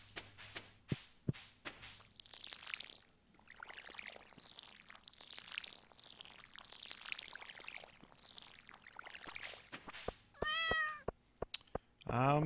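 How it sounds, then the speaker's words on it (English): Cat meowing in Stardew Valley video game, a quick run of high mews and a longer drawn-out meow near the end, mixed with pouring, trickling and soft tapping sounds. "Don't meow at me."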